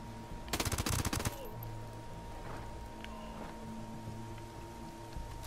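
A short, dense burst of automatic gunfire rings out in the Ghost Recon Wildlands video game over a constant background hum, followed by quieter ambient game sound with faint distant noises.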